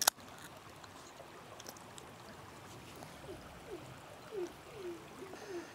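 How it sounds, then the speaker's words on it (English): A small creek babbles steadily beside a secluded creekside campsite in the North Carolina and Georgia backcountry, a soft, continuous trickle of water heard at low level throughout, with a few faint bird chirps near the end. "Little Sarah's Creek babbling in the background"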